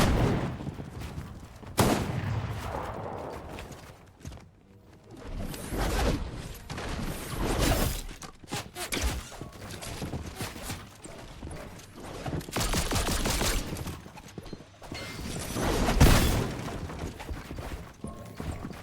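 Lock-on pistol gunfire in Fortnite Chapter 5, heard as repeated loud shots in clustered bursts mixed with other in-game action and effects, with no talk.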